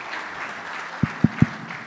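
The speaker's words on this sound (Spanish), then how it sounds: "Un aplauso para José Nathanson," Audience applause continues at an anniversary event as a speaker takes the stage, a soft wash of clapping punctuated by three distinct thumps close together.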